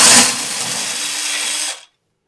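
A budget home drill machine fitted with a socket adapter whirs loudly and steadily for under two seconds while loosening a nut, then cuts off abruptly.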